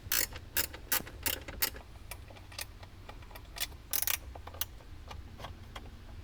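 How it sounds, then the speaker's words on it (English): Close, crisp ratcheting clicks from a ratcheting box wrench working bolts on a 2018–2023 Jeep Wrangler JL, coming in quick bursts of rapid ticks with short pauses between strokes over a low steady hum. "Pick one of these up if you don't have one already, a ratcheting box wrench."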